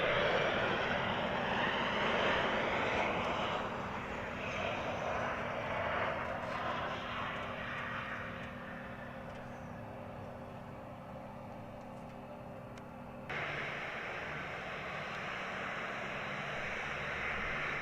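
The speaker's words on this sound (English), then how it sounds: "KC-135 just coming into land" A Boeing KC-135 comes in to land at Mildenhall, its jet engines a broad, steady roar that fades gradually as it passes, with a tonal whine running through the middle and a sudden drop in the noise near the end.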